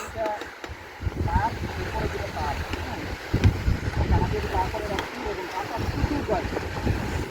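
Strong wind buffets the microphone on a hanging suspension bridge in the hills, a steady low roaring rumble with gusts throughout, and voices are faintly heard underneath.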